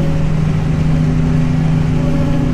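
A Krone BiG X forage harvester with a 600 hp Mercedes V8 engine runs at a steady, loud drone and hum nearby during corn silage harvest, with no talking.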